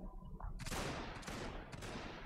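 Volleys of musket fire in Total War: Shogun 2, a dense crackling fusillade that swells and repeats in overlapping waves, loud and continuous.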